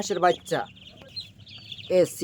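A crowd of one-to-seven-day-old Chinese ducklings, about five hundred of them, makes short, shrill peeping calls in quick clusters at the start and the end, with a softer thin chirping between them.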